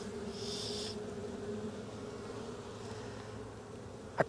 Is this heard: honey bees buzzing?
yes